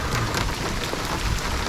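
Steady rain falls in the Okefenokee Swamp, a dense, even hiss of drops close around the listener with no voices.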